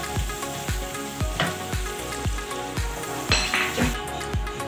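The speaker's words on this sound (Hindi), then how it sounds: "थोड़ी सी हरी प्याज अभी डालेंगे हम, हल्का सा फ्राई करेंगे इसको।" Green onions and spices sizzle in a pan for chicken and vegetable fried rice, a steady frying hiss punctuated by about eight rhythmic scrapes and clinks of a spatula stirring close by.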